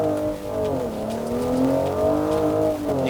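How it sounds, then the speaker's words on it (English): A Mercedes-AMG GLC43 SUV's throaty exhaust revs and holds a steady drone, pitch rising and dipping slightly, loud and close with no voices. "even when it comes to the exhaust sound, it has a good note"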